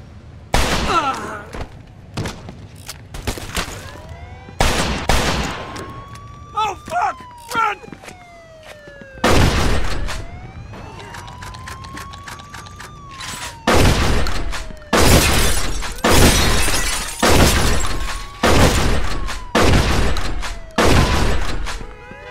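Repeated loud gunshots and crashing, shattering glass from the crime game Mafia II come in heavy bursts, with a police siren wailing between them.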